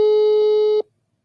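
A loud, steady telephone busy signal from a call that fails to ring through, a single sustained electronic tone that cuts off abruptly after under a second, alone with no talk.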